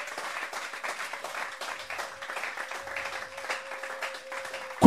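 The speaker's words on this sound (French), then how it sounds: "Put your hands together for the Lord." A church congregation gives a steady round of applause during a sermon, the clapping fairly soft and even throughout, with a faint sustained tone running underneath.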